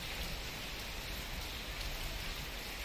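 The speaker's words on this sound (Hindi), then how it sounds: "कितनी तेज से बारिश हो रही है" Heavy monsoon rain from the first downpour of the Sawan season pours down steadily, a dense, even hiss of drops drumming on surfaces, loud and unbroken with no voices.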